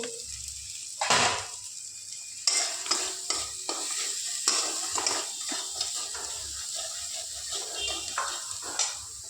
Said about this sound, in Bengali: লঙ্কার গুঁড়োটা দিয়ে একটু সুন্দর করে কষিয়ে নিলাম।